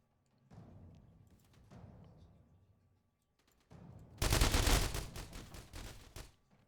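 Gunfire from a double AK-47 style weapon, two rifles taped together, in The Walking Trade video game: short muffled bursts give way to a loud, sustained rapid volley near the end.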